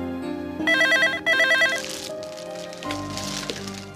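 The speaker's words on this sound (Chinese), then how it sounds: "一定有电话" A telephone rings indoors with two bright, trilling electronic bursts in quick succession, loud and close, followed by fainter background clatter and no speech.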